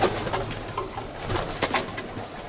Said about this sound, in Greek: Όλα τα Περιστέρια του.